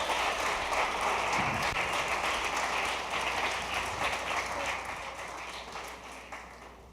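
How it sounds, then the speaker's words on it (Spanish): A church congregation claps together in a dense, sustained burst of applause that fills the room, then slowly thins and fades toward the end. "dése un aplauso"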